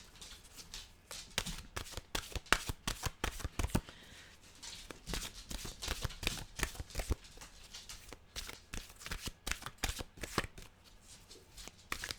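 Tarot cards are shuffled repeatedly, a quick flurry of crisp riffles and slaps close by, going on steadily with brief pauses.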